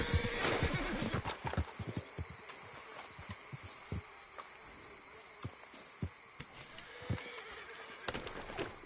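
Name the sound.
horse neighing and hooves clip-clopping in a PS4 video game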